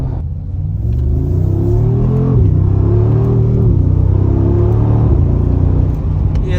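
A Mercedes G63 AMG V8 engine revs while driving. It gives a loud, close, continuous rumble that rises and falls with throttle and gear changes and carries no talking.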